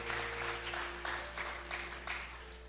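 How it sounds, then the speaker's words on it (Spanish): A church congregation applauds during a Spanish-language sermon, a steady wash of hand-clapping with a faint rhythmic pulse, heard at a distance under low room hum. "Vamos, aplaude al Señor"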